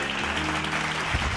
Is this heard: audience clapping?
yes